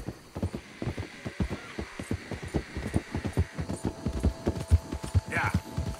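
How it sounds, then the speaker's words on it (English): Horse hooves clip-clop at a steady trotting rhythm in Red Dead Redemption 2, close and fairly soft, with a brief whinny near the end and some talk mixed in. "Hope I never have to be on that horse again,"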